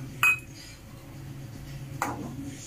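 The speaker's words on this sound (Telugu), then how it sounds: "గిన్నె నిండా పల్లీలు వేసుకుందాం." Two bright clinks of peanuts dropping into a metal bowl, close and fairly quiet, spaced nearly two seconds apart.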